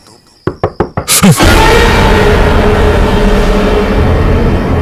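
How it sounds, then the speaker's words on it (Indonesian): Four quick knocks rap on a door, sharp and close, in a horror story sound effect, followed by a loud boom that swells into a sustained, ominous rumbling drone. "suara ketukan di depan pintunya terdengar lagi."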